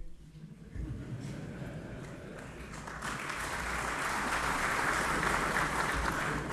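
Applause in the Moroccan parliament during a speech by the French president, a distant, diffuse roar of many hands that swells and grows denser after a few seconds, heard from afar with room noise beneath.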